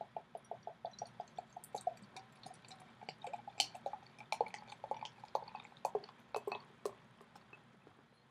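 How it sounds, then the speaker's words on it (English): Sam Adams The Vixen chocolate bock beer poured into a glass, a steady series of small close drips and splashes that grows busier and more irregular, fizzing toward the end, with no voices. "So let's go ahead and give this one a pour."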